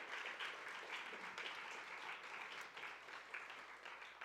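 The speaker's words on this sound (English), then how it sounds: "Let's give one more round of applause to the authors" An audience at a book awards ceremony applauds the shortlisted authors, a full, sustained wash of many people clapping at moderate distance, steady throughout with no speech over it.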